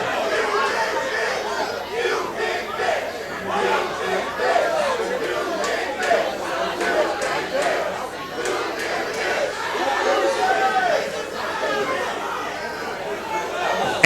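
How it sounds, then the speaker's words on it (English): A wrestling event crowd jeers and chatters, a continuous, loud mass of voices swelling and dipping throughout, with scattered shouts rising above the din. "Angels is going to have to brush aside the jeers of this crowd."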